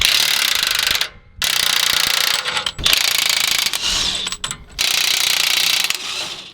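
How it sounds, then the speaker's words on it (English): A ratchet with a 15/16 socket loosens U-bolt nuts on the rear axle of a Ford F-250 during a lift block install, giving loud, close, fast clicking bursts broken by short pauses. "next we're going to use a 15/16 socket to get these nuts off"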